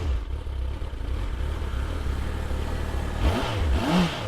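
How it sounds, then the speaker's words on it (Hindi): A motorbike engine revs up and pulls away, its pitch rising and sweeping in a couple of accelerating bursts near the end, loud and close over steady background rumble. "उधर रुद्र अपनी बाइक पर सवार होकर अरण्य ग्राम की तरफ बढ़ा चला जा रहा था।"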